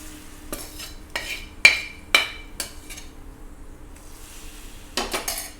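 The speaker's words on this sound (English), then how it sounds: "Now this hot tadka goes on to the hot dal." Hot tadka poured onto hot dal, giving a few sharp sizzling bursts and clattering spoon strikes against the pot, spaced irregularly with quiet gaps between, then a final cluster of stirring clinks.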